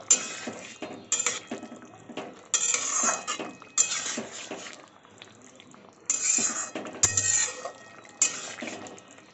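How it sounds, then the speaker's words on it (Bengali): A utensil scrapes and clinks against a metal pot while stirring a taro and potato vegetarian curry, in bursts with a few sharper knocks, close and moderately loud. "আবারও খুব ভালোভাবে মিক্সড করে নেব"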